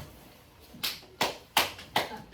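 Four separate claps spaced roughly half a second apart, fairly close and moderately loud, from children in a classroom during a lesson, with no talking over them.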